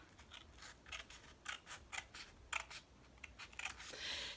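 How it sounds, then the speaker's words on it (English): Scissors snip through folded paper in a quick series of crisp, close cuts, irregularly spaced, with no talking. "You now take your scissors and you go into that little hole and you just cut along the folded line."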